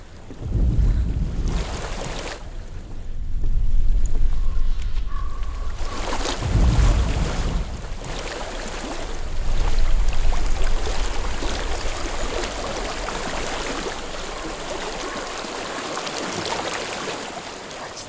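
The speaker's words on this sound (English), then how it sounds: "I hear water." Flowing water in the video game Hellblade: Senua's Sacrifice, a steady broadband rush and splash that swells and settles, with gusts of wind layered over it and no talking.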